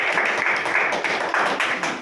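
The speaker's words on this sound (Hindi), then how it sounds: "चलो सब लोग ताली बजाओ लड़कियों के लिए भी" Schoolchildren in a classroom clapping for the girls, a dense, fast patter of many hands, steady and close, with no voices over it.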